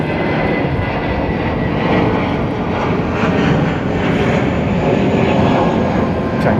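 A British Airways Airbus A380 departs Heathrow bound for Los Angeles, the four engines producing a loud, continuous rumbling roar that stays steady and near for the whole stretch, with no talk.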